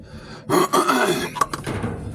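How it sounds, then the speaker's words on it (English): A single person clears their throat, a rough guttural rasp with a short grunt-like catch, close and fairly loud, with no speech. "I don't know why I keep clearing my throat."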